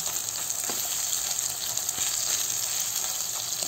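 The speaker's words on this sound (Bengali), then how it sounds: "সয়াবিনটা ভালো করে ভেজে নেবো।" Soya chunks fry in hot oil in a pan, giving a steady, close, bright sizzle that runs evenly throughout with small crackles and no voices.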